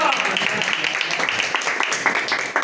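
A church congregation claps together during a worship service, with brisk continuous clapping filling the space alongside some voices.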